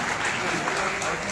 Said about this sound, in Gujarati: ખૂબ તાળીઓથી વધાવીશું.